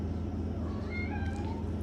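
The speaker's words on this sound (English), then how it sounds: "I'm sure you guys can hear my cat in the background." A house cat meows several times in the background: rising, drawn-out calls over a steady low hum, fairly faint and unaccompanied by speech.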